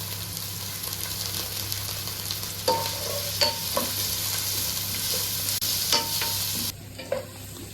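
Curry leaves hitting hot oil for egg fried rice made without sauce, a steady close sizzle and frying hiss with a few sharper crackles and spatters partway through.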